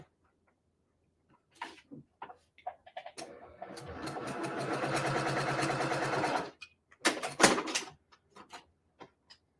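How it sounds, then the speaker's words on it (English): Sewing machine stitching quilt blocks along a marked line: a few scattered handling clicks, then a steady mechanical whir of stitching for a few seconds, followed by more clicks and fabric rustling. "And now I'm going to sew on the line."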